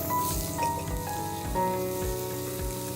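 Chopped ginger and garlic sizzle in hot oil in a pan, a close, steady frying crackle with occasional stirring knocks.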